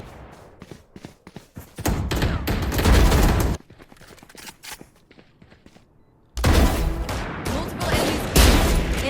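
Rapid bursts of Valorant gunfire, loud and close, with a sustained volley in the middle and another heavy barrage near the end, separated by quieter stretches of clicks and footsteps.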